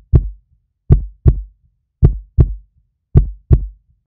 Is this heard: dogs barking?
no